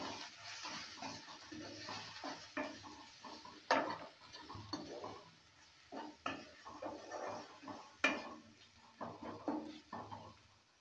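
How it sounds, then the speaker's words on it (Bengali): Spices with salt and turmeric being stirred in a pan for a kachki fish chorchori with potato and eggplant, heard as irregular scraping and clinking of a utensil against metal, close and fairly quiet, with sharper knocks now and then. "সব কিছু দেওয়ার পর ভালো করে নেড়ে নিচ্ছে।"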